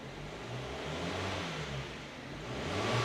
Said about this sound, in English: And revving it up is so much smoother as well.